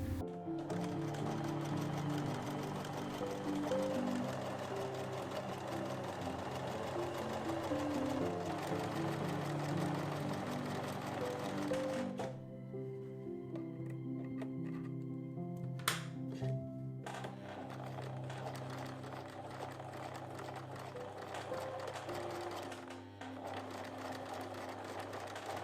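A sewing machine stitches a scrappy quilt block, running in a steady, close whir. It pauses briefly midway with a few clicks, then starts up again.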